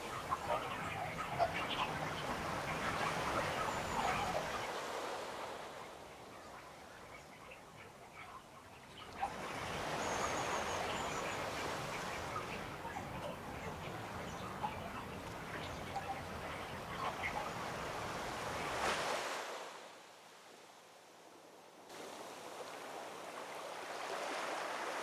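Rough Caribbean sea waves break along the coast of Cahuita National Park in Costa Rica as a continuous, surging wash of surf that rises and falls in long swells, with brief quieter lulls between them.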